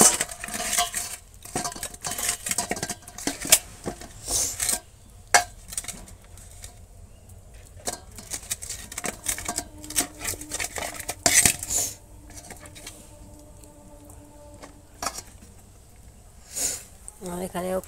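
Fried cauliflower is stirred in a pan with salt and turmeric in a village kitchen: a spoon clatters and scrapes against the metal in irregular bursts, with a light sizzle and a voice talking intermittently.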